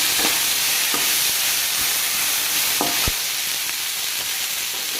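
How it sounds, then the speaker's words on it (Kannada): Mint and spices sauté in a pan for vegetable pulao, a steady sizzle broken by a few sharp scraping stirs of the spoon against the pan, close and clear with no voices. "ಇದನ್ನೆಲ್ಲ ಹುರ್ಕೊಳ್ಳೋಣ. ಎಲ್ಲ ಹಸಿ ವಾಸನೆ ಹೋಗೋದಕ್ಕೆ."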